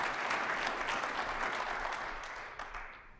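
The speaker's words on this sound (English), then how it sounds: "Give him a round of applause." Sustained audience applause at a 1 Million Cups startup pitch event in Kansas City, a dense steady wash of many hands clapping that gradually thins and fades toward the end.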